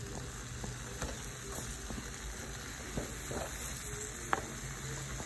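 Diced tomatoes frying in a pan give a steady, quiet sizzle with faint crackles and an occasional sharper pop, with no voices.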